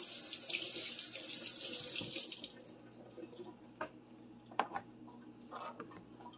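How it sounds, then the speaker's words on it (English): Tap water pours steadily into a sink as bone-in pork chops are rinsed. The flow stops after about two seconds, followed by scattered drips and light clinks at close range. "My pork here, and we're going to rinse it."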